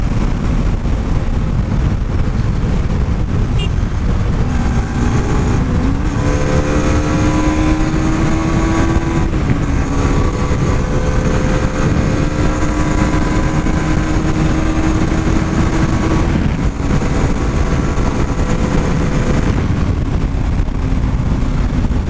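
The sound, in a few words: Bajaj Pulsar AS200 motorcycle engine revving to redline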